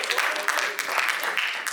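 A seated audience at a Hindi poetry gathering claps warmly for a poet being welcomed, a steady, dense patter of many hands lasting the whole moment with no pause.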